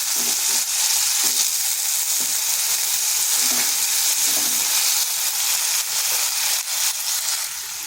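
Small cut pieces of potato fry in hot oil in a wok, giving a loud, continuous sizzling hiss with faint clinks scattered through it and no talking.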